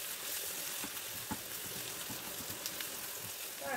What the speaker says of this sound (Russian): Лук у нас обжаривается